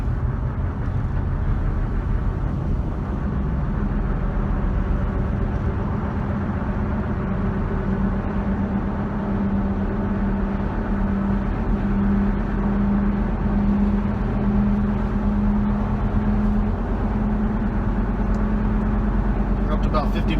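A 2011 Jeep Wrangler Rubicon 4x4 cruises at about 50 mph, with a steady, loud low road and engine drone and a constant hum filling the whole stretch inside the cabin.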